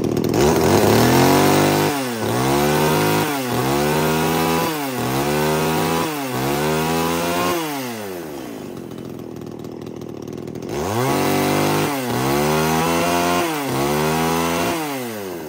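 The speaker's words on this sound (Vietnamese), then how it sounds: "kéo là nó sẽ nổ đấy một con máy cưa mang thương hiệu Makita" A Makita chainsaw engine revs hard several times in a row, loud and close, drops to a rough idle for a few seconds, then revs up again.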